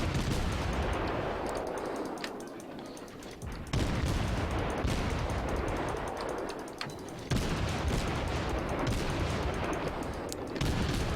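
Warship gunfire in the naval battle game World of Warships, with the cruiser Kolberg engaging battleships: a few loud broadband salvos land at regular intervals over continuous rumbling battle noise, with no talk.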